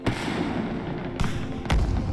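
Fireworks burst with two sharp bangs over a constant rumbling crackle, distant-sounding and echoing.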